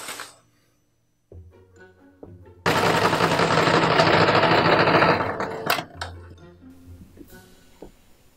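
A sewing machine stitching the side seams of a corset lining, starting with short bursts and low motor hum, then a loud continuous run of rapid stitching for a few seconds before slowing and stopping.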